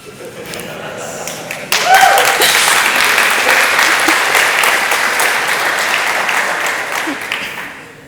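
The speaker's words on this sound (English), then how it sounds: "Applause for dark mode." Applause erupts from the audience at a React conference talk in Alicante, Spain, starting quieter and swelling into a loud, sustained round of clapping that slowly tapers, with a brief laugh and a thump in the mix.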